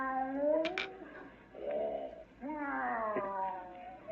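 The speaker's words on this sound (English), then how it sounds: "That's the cat." A cat yowls in long, drawn-out, wavering meows, three cries in a row, fairly close, with a couple of short clicks.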